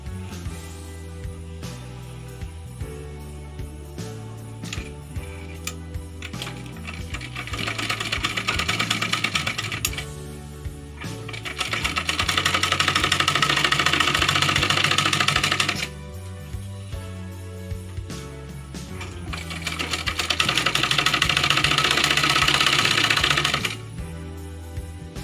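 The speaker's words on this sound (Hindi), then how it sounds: "तो हम डायरेक्ट गले की सिलाई करेंगे" A sewing machine stitches the neck of a high-neck blouse in several long, loud runs of rapid mechanical chatter, separated by short quiet pauses.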